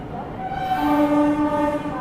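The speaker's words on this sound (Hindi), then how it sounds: "इगतपुरी में ट्रेन का कोई स्टॉपेज नहीं है और ट्रेन स्किप करते हुए आगे बढ़ चलती है।" A Rajdhani Express train running through a station without stopping, a loud steady rumble of passing cars with sustained horn tones rising over it, close by.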